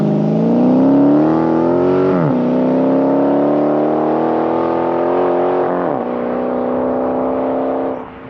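Customized Hot Wheels Dodge Challenger SRT launching from a standing start, engine revving hard and climbing through two gear changes, loud and close before cutting off at the end.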